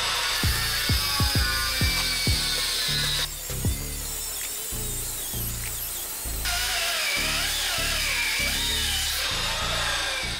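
A power tool saws through a heavy steel U-lock weighing over 1.5 kg, used on a motorcycle or bicycle wheel rim: a loud, continuous, close grinding whine with a pulsing low chug that runs throughout, and no talk.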